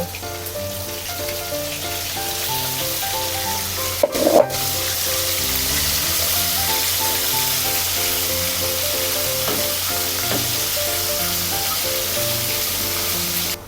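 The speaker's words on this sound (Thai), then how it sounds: "แล้วก็ทอดปูก่อนนะคะ" Battered crabs deep-frying in hot oil, a close, loud, rain-like crackle that runs continuously, with a brief sharp clatter partway through and background music underneath.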